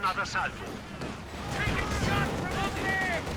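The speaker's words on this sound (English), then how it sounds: "Some of the bullets hitting the buildings." Gunfire with bullets striking buildings during a late-game Company of Heroes 2 tank battle, a steady roar of shots and impacts over a rumbling battlefield, with a voice talking underneath.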